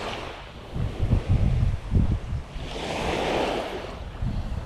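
Strong sea waves roll in at Port Dickson beach in Malaysia, a loud, surging wash with rushing surf swells and gusty wind noise buffeting the microphone, and no voices.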